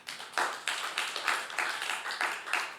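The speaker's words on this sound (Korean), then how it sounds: "우리 박수 한번 쳐줘" A small group at a Wednesday church service claps their hands in a quick, fairly even rhythm, the individual claps close and distinct, with no talking.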